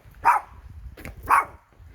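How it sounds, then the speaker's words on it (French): A small dog barks twice outdoors in the countryside, two sharp yaps about a second apart, moderately close and clear over a low background rumble. "regardez, un chien qui aboie."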